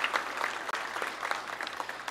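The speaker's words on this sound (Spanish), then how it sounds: "reiterarles un aplauso para los donadores de estos vehículos" Crowd at a police promotions and decorations ceremony giving applause for vehicle donors: a steady burst of many hands clapping, moderately loud and sustained for a couple of seconds, with a brief dip midway.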